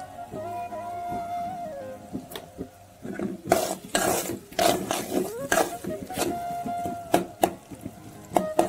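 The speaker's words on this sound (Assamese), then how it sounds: "এতিয়া অলপমান নিমখ দি পেলাই ভালকৈ মছলাটো ভাজি ল'ম" Spice masala with salt, for a shoal fish dish, is stirred and fried in a pan, a gentle sizzle broken by repeated scraping and clattering strokes of a utensil against the metal, with no talking.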